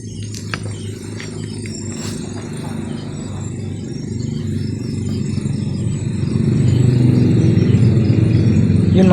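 Steady engine and traffic rumble from a nearby highway beside a cemetery, with passing motorcycle noise swelling louder toward the end; no one speaks.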